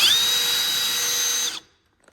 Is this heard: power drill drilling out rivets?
yes